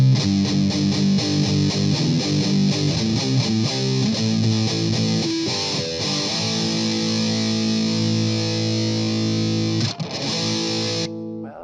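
Heavily distorted electric guitar through a Boss Metal Zone distortion pedal plays chugging riffs and sustained chords, thick and saturated with a fuzzy metal tone, ending in a held note.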